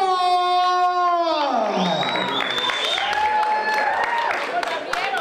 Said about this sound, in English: I want everybody to put your hands together.